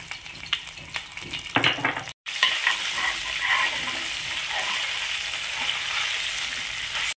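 Ginger garlic paste frying in a pan for haleem, with a loud, steady sizzle and stirring scrapes, a brief cut near two seconds, then a continuous close hiss.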